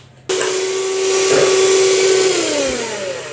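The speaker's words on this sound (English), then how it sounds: "And then electric whisk it until soft peaks." An electric whisk whips double cream in a bowl, switching on abruptly into a loud, steady motor whine that holds, then dips slightly in pitch as it works.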